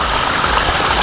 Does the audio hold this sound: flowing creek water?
yes